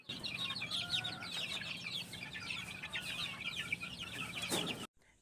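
Cockerels in a pen on a game farm cluck and chatter continuously, several birds at close range with a steady busy rhythm and no talk.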